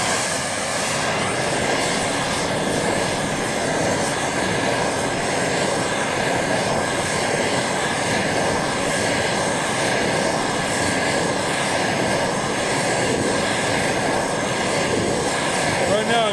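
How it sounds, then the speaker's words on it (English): A brazing torch roars steadily while heating kiln blocks, a loud, continuous close-up rush that holds even from start to finish, with a voice talking over it. "Right now I'm just kind of heating up my kiln blocks. They're a little warm to begin with, so they don't suck the heat away from my brazing."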